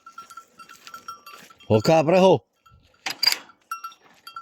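Goat bleating loudly and close by on a riding-school farm, one long wavering bleat followed by a shorter, higher call, with a voice speaking briefly beforehand and bells or chirps faintly in the background.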